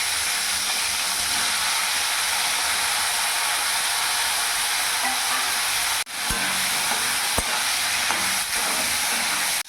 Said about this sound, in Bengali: যে তেলটা আছে ওই তেলের মধ্যে ফুলকপিগুলো ভেজে নেবো